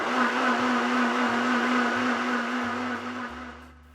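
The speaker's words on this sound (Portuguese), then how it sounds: "bate até misturar bem conforme a potência do liquidificador" A kitchen blender whirs steadily, mixing pudding ingredients with corn starch, a loud continuous motor hum that holds even, then eases and slows near the end; no one speaks.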